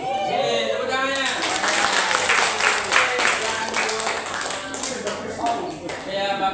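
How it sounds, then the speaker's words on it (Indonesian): Classroom applause from students in a lesson on wakalah, a dense patter of many hands at close range with some voices mixed underneath, holding steady for several seconds. "Tepuk tangannya."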